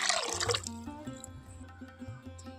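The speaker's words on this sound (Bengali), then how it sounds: "কড়াইয়ের মধ্যে দিয়ে দেব জল, বেশ কিছুটা জল দিয়ে দেবো" Water splashes and trickles into a kitchen wok as jackfruit is being cooked, a loud gush at first that tapers into smaller drips and light clinks, close by and with no voices.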